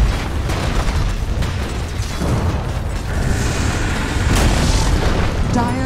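In Dota 2, the Dire middle tower collapses in loud booming crashes and mechanical clatter amid dense, continuous battle noise.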